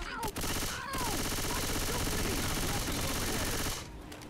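Dense automatic gunfire from teammates in Left 4 Dead 2 rattles almost without pause, loud and layered with game effects, cutting off abruptly near the end.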